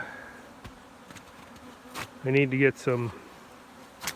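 Honey bees buzz in a hive in winter, a steady low drone close by, with a louder burst of buzzing part way through.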